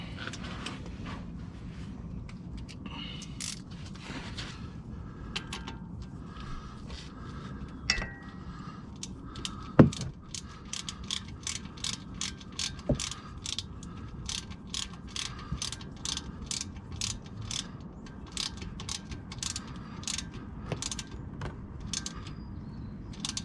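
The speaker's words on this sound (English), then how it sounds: "Figure out where I left the ratchet." A ratchet wrench loosens the differential cover bolts on a Jeep Wrangler JK, making quick rhythmic clicking strokes in repeated runs with occasional metallic clinks. The sound is close and moderately quiet, with no talking.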